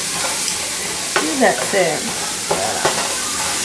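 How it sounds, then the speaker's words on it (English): Potatoes fry in a pan with a steady sizzle, broken by a few scraping stirs, while a voice speaks briefly. "I'm just frying up these potatoes so they can cook"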